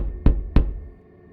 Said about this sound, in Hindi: 3 धीमी दस्तक